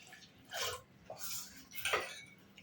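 Water is poured into soaked rice batter for neer dosa in a few soft splashing, trickling bursts, quiet and close, with light clinks of a bowl between them.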